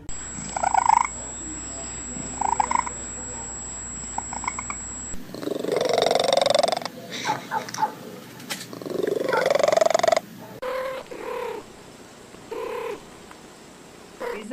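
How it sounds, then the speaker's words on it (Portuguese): A kitten purring close up: soft rhythmic rumbling breaths swell and fade in a steady cycle, with a few higher mewing or breathy sounds in between and no talk over it. "Você já ouviu o ronronar de um gatinho?"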